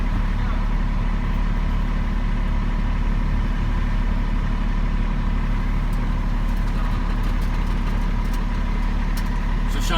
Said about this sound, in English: As long as you hear a diesel engine, you're good.